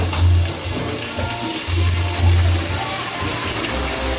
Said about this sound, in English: I'm just draining my beautiful crisp broccoli